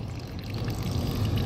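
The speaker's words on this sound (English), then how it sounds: "Now you can see that is draining quite a bit of water" Water pours steadily from the condensate drain of an HVAC rooftop unit, a continuous close splashing stream with a low watery rumble.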